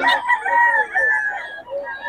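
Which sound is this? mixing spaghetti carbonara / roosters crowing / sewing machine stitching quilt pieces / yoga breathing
roosters crowing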